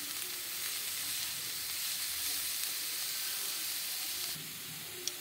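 Cauliflower kachori filling with pav bhaji masala and turmeric is stirred in a hot pan, producing an even, moderately loud hiss and sizzle that drops slightly near the end.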